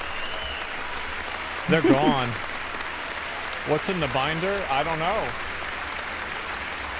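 Applause from a crowd at a Trump congressional address continues as a steady background wash while people nearby talk over it in short bursts.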